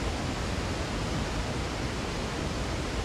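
Steady broadband rush of a waterfall in Resident Evil 4, a constant dense roar that stays even and loud throughout with no other sounds over it.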